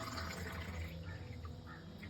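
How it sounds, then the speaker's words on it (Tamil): Water poured into a chia seed breakfast drink with a pinch of salt, a faint, steady liquid rush over a low hum. "இப்போது தண்ணி ஊற்றிக்கலாம்."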